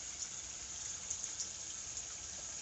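Faucet running at a moderate flow, a fairly quiet, steady hiss of water with small splashy fluctuations and no voices.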